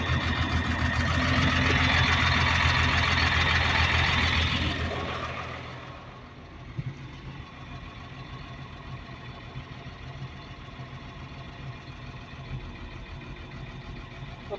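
A Caterpillar 950H wheel loader diesel engine idles loudly with a high whine for about five seconds, then drops to a quieter, rougher, uneven rumble for the rest as an injector is cut out.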